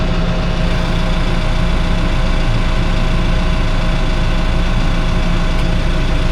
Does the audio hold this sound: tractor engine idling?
yes